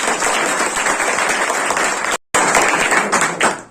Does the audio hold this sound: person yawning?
no